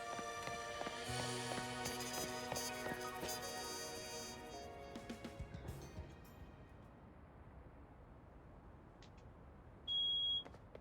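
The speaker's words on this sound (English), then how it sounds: "Oh, smoke alarm's going off." Smoke alarm going off indoors near a fire burning in a room, heard as a short pair of high electronic beeps late in the clip after a stretch of clattering, thumping household noise.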